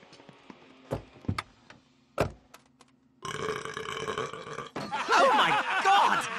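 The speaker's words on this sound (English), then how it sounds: "That was such a hot burp." A cartoon character lets out a long, loud, rumbling burp after some clacking knocks; the belch swells in two rough, gurgling bursts close to the listener, heard alone without speech over it.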